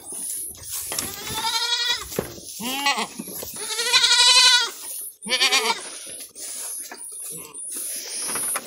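Goats on a farm bleat loudly and close by in several long, wavering calls overlapping one another, separated by brief pauses.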